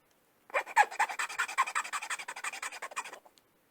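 A hand file working nylon plastic, about three seconds of quick back-and-forth rasping strokes, close and fairly quiet, fading out toward the end, with no voices.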